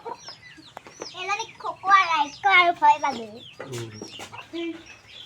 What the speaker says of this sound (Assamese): এইটো হৈছে লোকেল মুৰ্গীৰ ফাৰ্ম